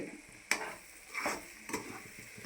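Egg rice with masala and salt being stirred in a hot pan, a few scraping strokes of the spoon over a low sizzle, fairly quiet and close.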